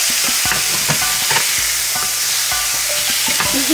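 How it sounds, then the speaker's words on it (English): Mushrooms seasoned with Everglades seasoning fry loudly in a hot pan, giving a dense, constant sizzle with repeated stirring scrapes and clicks close by. "Let those mushrooms start cooking."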